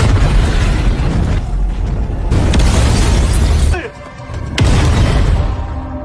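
A loud, roaring gas explosion blast rumbles on for seconds, briefly drops away, then a second burst of booming noise erupts again.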